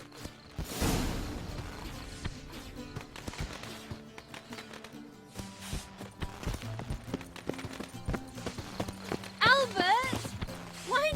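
Horse hooves clip-clop in The Witcher III: The Wild Hunt on PC, a light tapping rhythm mixed under game music, effects and spoken dialogue.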